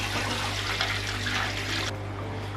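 Water pours and splashes into an open-top aquarium tank as a steady rushing gush under a low hum. The pour cuts off near the end, leaving only the hum.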